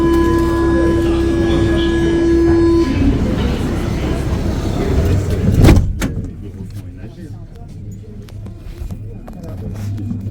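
A Paris metro train hums and rumbles with a steady tone, then a sharp clunk of doors or braking, followed by rolling rail noise and a passing voice.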